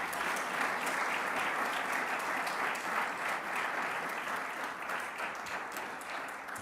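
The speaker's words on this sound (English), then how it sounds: "And that's an applause line right there." Steady, dense applause from a press conference audience at a New York governor's event on reducing crime, continuous and fairly loud throughout with no pauses or voices standing out.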